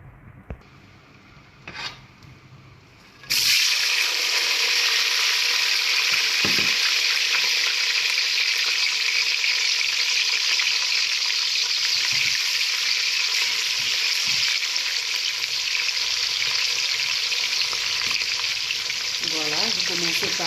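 Ingredients for salted fish with okra mixed in a cooking pot, a loud continuous frying hiss that starts abruptly after a few quiet seconds and holds steady, with occasional stirring rubs.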